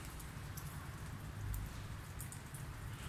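Steady rain falls outdoors near a pigeon coop, a dense even hiss of drops pattering on surfaces with a low rumble beneath, continuous and moderately faint throughout, with no voices.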